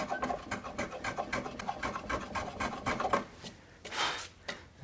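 A hand plane shaves along a wooden rail of a pinhead shave horse in repeated short, soft rasping strokes at a steady rhythm, close and quiet, with no talking.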